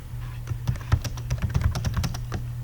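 Keys clatter on a computer keyboard while someone fills in a spreadsheet, a quick irregular burst of close, crisp taps with small pauses, with no one speaking.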